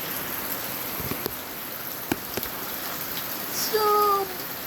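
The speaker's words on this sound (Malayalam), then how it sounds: "അപ്പം നമ്മുടെ ഇവിടെ മഴയൊക്കെ തന്നെയാണ്." Rain falls in a steady hiss with a few sharper drips standing out, and a brief tonal whine rises near the end.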